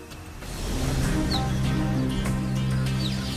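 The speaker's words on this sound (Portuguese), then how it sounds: "ela emite um som que soa como um pássaro." A cheetah giving bird-like chirps, a couple of faint, brief high chirps over a steady low background rumble.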